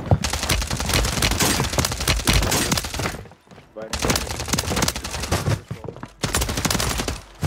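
Dense bursts of automatic gunfire in the video game Warzone 3, loud rapid rattling volleys that stop briefly and resume, with voices talking underneath.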